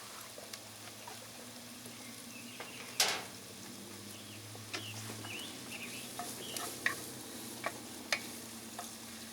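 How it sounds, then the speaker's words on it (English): Food sizzles quietly in a pan at a basecamp cookout before ground beef goes in, a soft, steady frying hiss with occasional scrapes and light clicks from stirring. "we're just going to let this fry down for a minute or so, and then add some ground beef to it"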